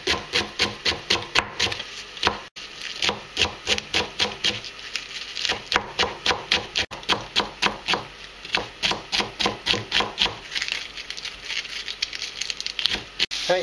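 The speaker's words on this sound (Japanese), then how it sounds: "キャベツ切っていきます。" A knife chops cabbage on a cutting board in quick, even rhythmic strokes, each a crisp crunching thud, close and loud, continuing without a break for over thirteen seconds with no talking.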